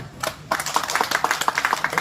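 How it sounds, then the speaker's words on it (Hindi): Quick, bright claps from a small gathering at a yajna ritual gathering, a brisk rhythmic patter starting after a brief pause and continuing steadily, close by and fairly loud. "तालियां बजा दो"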